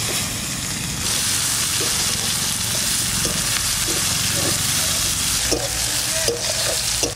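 Chopped onions with dried red chilies and cumin sizzle in hot mustard oil in a wok, a loud, continuous frying hiss broken by the scrape and clink of stirring.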